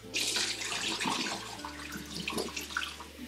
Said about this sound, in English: And I just run cold water over them.